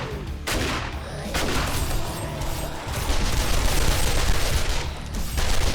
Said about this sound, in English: That's our only fast, rapid-fire weapon we got